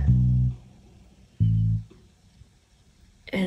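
Deep synth bass from Logic Pro's stock plugins plays two held low notes in a lofi track, each swelling for about half a second then cutting off, with a brighter hit entering at the end and no voices.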